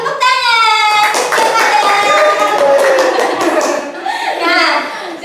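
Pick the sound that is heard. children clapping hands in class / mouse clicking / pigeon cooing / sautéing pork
children clapping hands in class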